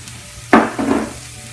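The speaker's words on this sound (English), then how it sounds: "I'm going to cook the mushrooms with it" Mushrooms and tofu scramble frying in a pan, with a brief burst of sizzling as food hits the hot surface, followed by a second softer sizzle, close and alone.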